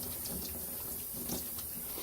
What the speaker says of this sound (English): you rinse it off with water really well